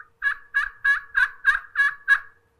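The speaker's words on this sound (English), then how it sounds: "They're going to want to use a pot call." A slate pot turkey friction call yelping: seven evenly spaced, loud, close notes in a steady rhythm, with no voices.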